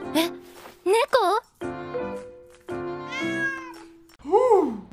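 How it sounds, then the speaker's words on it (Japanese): A cat meows several times in an indoor anime scene, with strongly pitched, sliding cries that rise and fall. The meows come in bursts between stretches of talk and are close and clear. "うち猫いるんだけど大丈夫だった？"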